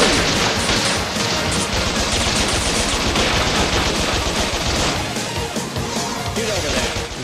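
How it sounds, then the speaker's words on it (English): A flame gun and a rocket launcher fire in a chaotic shooter video game, with dense continuous roaring and crackling blasts over the whole stretch, loud and close, while someone talks over it. "Flame gun. Rocket launcher."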